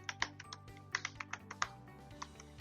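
Someone types on a computer keyboard in a quiet room, giving soft irregular key taps in short bursts with brief pauses, close and clear with no voices.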